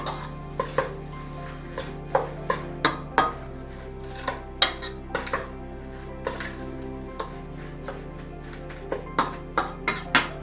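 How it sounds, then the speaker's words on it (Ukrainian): A spoon knocks and scrapes against a bowl as sliced apples are stirred with sugar and lemon juice, giving a steady series of sharp clinks and taps at close range under a low background hum. "Ложечку цукру і видушую трішечки соку лимонного. Раденько перемішую."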